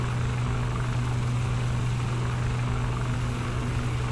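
Shergood S/H92 helicopter's number 2 turbine engine spinning up on start, a steady loud whine over a deep continuous drone with strong low tonal hum, unbroken for the whole stretch.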